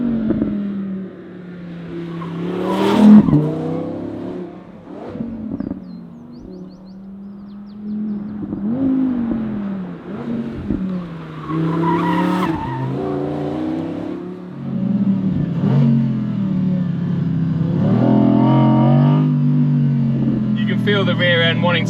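A rear-wheel-drive Audi R8 Performance coupé's engine revs and pulls while driving, rising and falling through the gears, loud and close, with someone talking over it throughout.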